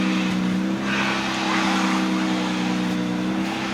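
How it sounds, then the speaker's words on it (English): A car idles with a steady hum while a hissing, straining whine from the power steering swells and fades as the wheel is turned lock to lock during a fluid flush. "we're just going to cycle the wheel lock to lock."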